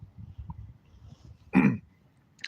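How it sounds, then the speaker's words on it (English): A single loud cough bursts out midway, close and abrupt, after a stretch of low murmuring background noise, with a faint short sound right at the end. "That's them Skittles got me coughing loud."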